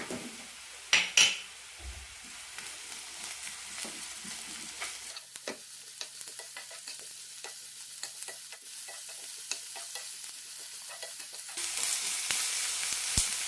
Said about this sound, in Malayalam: ഒരു ടേബിൾ സ്പൂൺ എണ്ണ എടുത്തിട്ടുണ്ട് ഇതിലേക്ക് സവാള ഇടാം കൂടെ തന്നെ പച്ചമുളകും ഇടാം